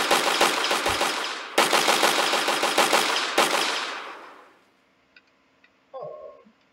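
Rapid machine-gun fire in the Manniquin Hunter video game prototype comes in three loud bursts of evenly spaced shots. Each burst ends with a decaying echo, followed by near silence and a few faint game sounds.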